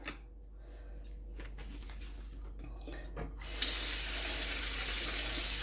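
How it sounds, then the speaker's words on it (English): Tap water runs into a kitchen sink while leeks are washed; soft handling noises and light splashes come first, then the faucet gushes in a loud, steady hiss for the last couple of seconds. "So I'm going to take this over to the sink and give it a bit of a wash."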